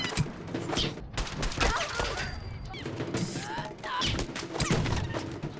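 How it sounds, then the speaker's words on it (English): Baseball bat strikes land on raiders in the video game Fallout 4, a fast run of heavy thwacks and crunching hits layered with gunfire and combat effects, loud and continuous throughout. "What is it about beating raider scum with bats that's so satisfying?"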